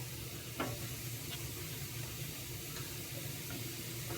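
Red peppers sizzle faintly on a hot panini pan, a soft steady hiss with a few light taps and clicks, heard alone without speech.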